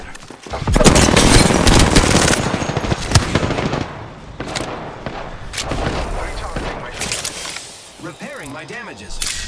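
Heavy automatic gunfire in Apex Legends, long dense bursts of rapid shots with mechanical clatter, loud and close, then sparser shots and a rising whine as a voice speaks briefly.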